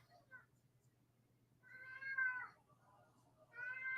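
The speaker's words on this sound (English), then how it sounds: "My crying cat." A pet cat cries with two drawn-out, fairly loud meows about a second apart, set against a steady low hum from an ice hockey game broadcast.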